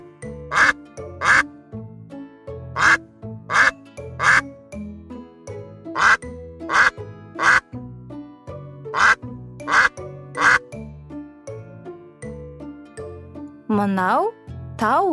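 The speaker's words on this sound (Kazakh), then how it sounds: "үйрек." A duck quacks in quick, sharp pairs and triplets repeated again and again, loud and close, with a brief sliding tone near the end.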